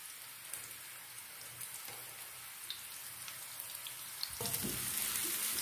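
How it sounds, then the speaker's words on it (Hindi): A small amount of chopped onion sizzles steadily in a hot pan for a Pakistani-style pizza topping, a continuous crackling hiss, close up, growing louder and denser near the end as the onions are stirred. "ये प्याज हमारे फ्राई हो रहे हैं"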